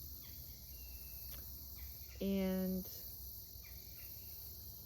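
Crickets chirp faintly and steadily outdoors in a quiet natural setting, with a brief louder bird call or voice in the middle and a single spoken word.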